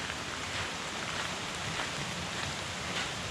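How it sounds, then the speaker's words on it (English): Steady, moderate rain falls on a tree-covered path in the Northern Layan Hills, a continuous even hiss with no individual drops standing out and no voices. "It's raining steadily, it's not torrential"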